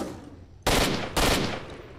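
Two loud gunshot bursts from a firearm in the video game S.T.A.L.K.E.R.: Shadow of Chernobyl, each a sharp crack with a ringing tail, half a second apart, after a quiet start and with no talk.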